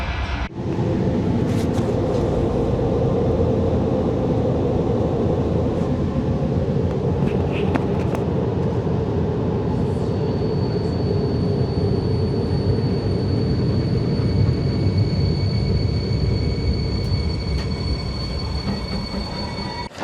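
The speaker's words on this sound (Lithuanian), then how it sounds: "Atvyko traukinys į Balstogės geležinkelio stotį." A passenger train pulls into Białystok railway station with a loud, continuous rumble of wheels on rails, joined by high, drawn-out squeals of braking wheels building toward the end; no voices.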